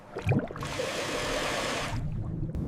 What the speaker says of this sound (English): That little slosh sound? That's the Southern Ocean saying hi.